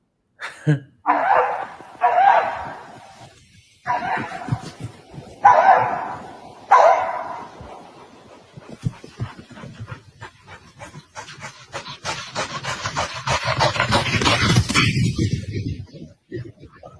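A dog tracking a rabbit's scent lets out several loud, sharp barks in a spaced series near the start, then settles into rapid, heavy panting and sniffing that grows louder toward the end.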